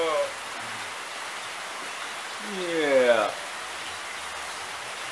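Steady rain hisses around a porch in Leilani during a squall, a constant wash of falling water with a voice speaking briefly over it near the start and again in the middle.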